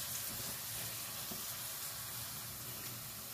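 Onions and spices frying in a pan for baingan bharta, a steady soft sizzle running throughout at low level with no talk.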